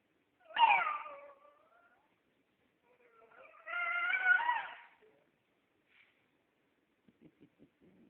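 A small female dog gives cat-like meows, a loud drawn-out wail followed by a longer wavering meow, then a few faint soft clicks in an otherwise quiet room.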